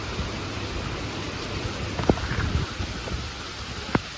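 Unseasonal rain falls steadily outdoors, a dense, even wash of patter with a few sharper drops striking close by, and no voices.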